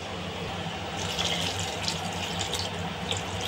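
Water runs steadily into a cooking pot of eggplant pieces for a Telugu dried-fish curry, a soft continuous tap-like pour at close range with no talk.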